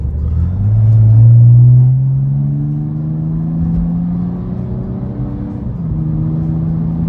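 A BMW 325d E90 diesel with a stainless full-tube exhaust and Stage 1+ tune accelerates up through the gears, its loud, close engine drone rising in pitch, dropping briefly at a shift, then climbing again.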